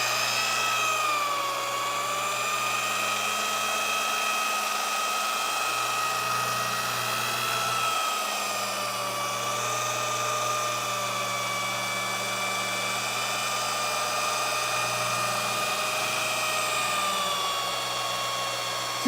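A rotary polisher runs steadily on neglected black car paint with soft clear coat, a loud, continuous motor whine with a low hum underneath that rises and dips slightly as the pad is worked across the panel.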